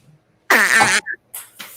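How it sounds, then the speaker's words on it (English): A wet fart blasts loud and close for about half a second, followed by a few shorter sputtering bursts. "Like a wet fart."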